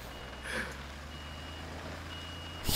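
A truck's reversing beeper sounds in the construction video game Construction Simulator 2015: a faint, steady electronic beeping over a low engine hum that ends in a brief louder burst.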